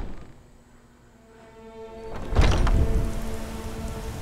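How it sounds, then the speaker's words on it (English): Rain pours down in the video game Skyrim, starting as a soft hiss under gentle background music, then swelling into a loud, dense downpour about halfway through that carries on to the end. No one speaks. "how long do I have to wait for the rain to stop?"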